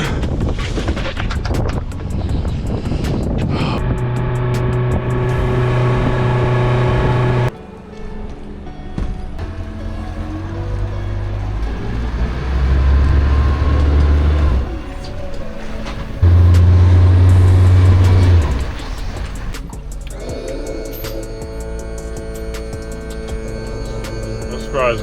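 A boat outboard motor running on the ride in, a loud droning engine hum with shifting pitch, mixed with heavy wind buffeting and rushing noise.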